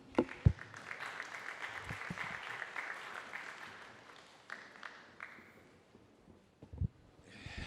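An audience at a French brand forum applauds a guest speaker, with moderate clapping that thins out and fades toward the end, followed by a few stray claps and bumps.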